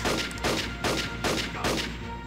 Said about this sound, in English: Didn't take long for machine gunners to start getting annoying in this game.